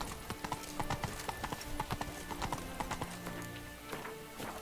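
Horse galloping in the video game Witcher 3, brisk rhythmic hoofbeats clip-clopping close and clear, easing off near the end, with a voice speaking over it.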